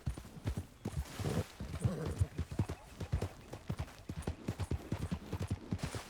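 Horse hooves clip-clop in a steady rhythmic gait in the Red Dead Redemption 2 video game, close and moderately loud, with faint game voices and ambience beneath.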